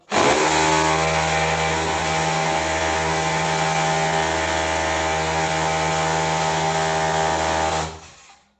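A loud hammer drill runs continuously for about eight seconds, a steady buzzing grind with a strong motor hum, then winds down and stops.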